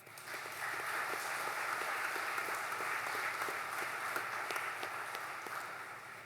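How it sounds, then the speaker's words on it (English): Applause at a Navy NPTU graduation ceremony honoring staff: a broad, steady wash of many hands clapping with a few distinct claps standing out, heard at moderate distance and fading slightly at the end. "So a round of applause for the NPTU staff"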